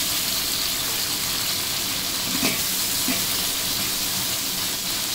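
Onions and tomatoes frying for chicken biryani give a steady, close sizzle with a faint stirring scrape partway through, heard alone without talk.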